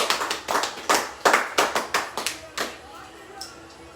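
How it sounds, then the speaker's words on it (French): A church congregation breaks into applause, a brisk scatter of close hand claps that peters out within a few seconds into light, sparse taps. "Est-ce qu'on peut acclamer cette parole?"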